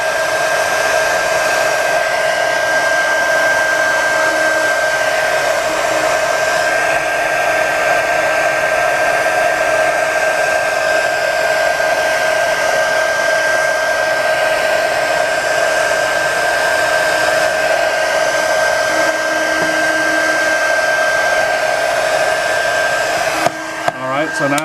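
A heat gun blowing steadily on a smart balance wheel scooter board as the plastic is heated and pulled, a loud continuous whirring hiss with a steady tone that holds for the whole stretch before cutting off abruptly.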